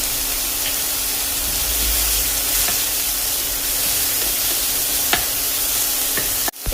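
Crushed chili and carrots fry in a pan over medium flame, giving a steady, close sizzling hiss with a few faint clicks and a sharp knock near the end; no one speaks.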